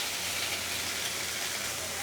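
Soybean chunks frying in a pan of oil seasoned with turmeric and salt, a steady, dense hiss and sizzle holding even throughout without a break.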